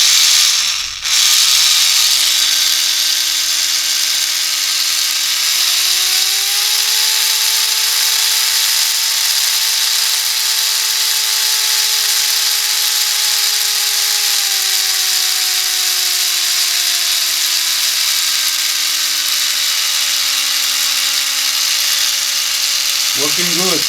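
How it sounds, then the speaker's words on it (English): A small gearhead DC motor runs on 5 volts with a continuous high whine, its pitch rising slightly midway and then sinking back. It runs alone, close and steady the whole time. "Let's try this gearhead motor."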